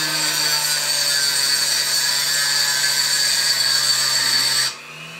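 Pinewood derby car axle spun at high speed in a drill while a file is held against it, a steady loud whine with a high metallic hiss throughout, stopping abruptly near the end.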